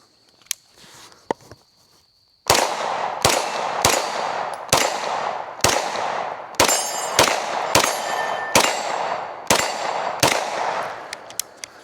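Stribog SP9A1 pistol firing a string of about ten sharp, loud, evenly spaced shots, each ringing off steel targets with a metallic clang, after a few quieter handling clicks.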